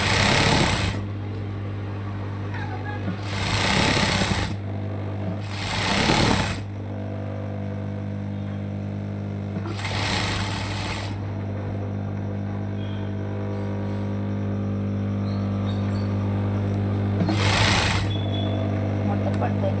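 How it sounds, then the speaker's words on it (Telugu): A sewing machine stitches across the bottom of a fabric bag, several loud bursts of rapid mechanical running separated by pauses, over a steady motor hum. "డివైడ్ చేసుకుని బాటంలో స్టిచ్ చేసుకోవాలండి."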